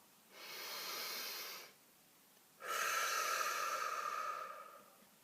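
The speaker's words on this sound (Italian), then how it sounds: "facciamo un bel respiro profondo." A person takes a deep breath, a soft inhale followed after a pause by a longer, stronger exhale, close and quiet with no talking.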